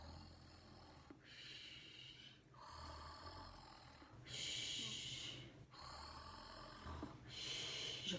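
A voice imitates a sleeping giant snoring during a French children's book reading, with slow alternating snores and snorting exhales, about five breaths in a steady rhythm, quiet and close.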